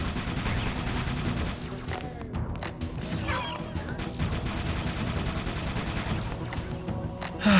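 Rapid automatic weapon fire and explosions in Halo: Combat Evolved, dense continuous bursts of shooting with thuds and crashes, loud throughout.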